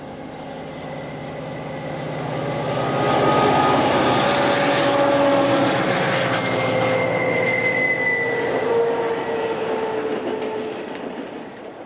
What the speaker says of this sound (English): This train of mostly empties is headed by Cotton Belt's 1989 built GP60